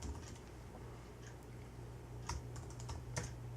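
Someone types a university login ID on a computer keyboard, a steady run of quiet, close key clicks with a few louder taps over a low background hum.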